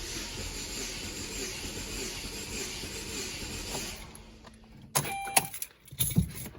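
An LSJ engine cranks over on the starter during a compression test with the throttle held wide open, a steady close whirring drone for about four seconds that stops and is followed by a few clicks and handling noises.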